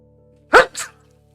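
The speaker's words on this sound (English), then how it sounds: "I have to sneeze again." A person's sneeze comes as one sharp close burst, a short gap, then a softer second puff, with a steady low hum in the background.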